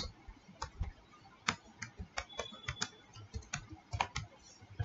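Typing on a computer keyboard in gas agency accounting software, with irregular quick keystroke clicks in short bursts, close and fairly quiet, no talking.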